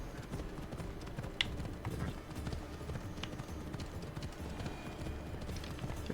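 Horse hooves clip-clop in a steady, quick rhythm in Assassin's Creed Odyssey, fairly close and continuous, with a faint whinny hint and no talking over it.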